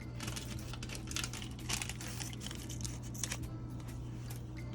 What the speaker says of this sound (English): Use a scissors to cut that.